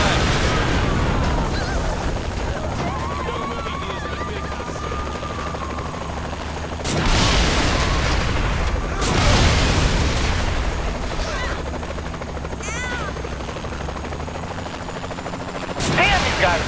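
Gunfire in the video game Saints Row The Third Remastered, sharp shots and short bursts cracking every few seconds over a steady droning engine-like background, with voices talking at times.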